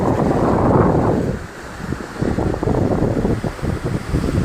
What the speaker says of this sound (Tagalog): makikita nyo yung hangin, pagbugso ng hangin